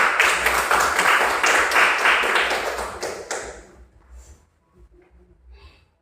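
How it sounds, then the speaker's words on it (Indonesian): A classroom of students claps hands together in a dense, lively burst for about three seconds, then it fades out to quiet with a few scattered claps. "berikan tepuk tangan dulu"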